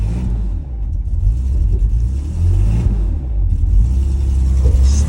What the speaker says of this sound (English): It's starting up. The V12 is starting up.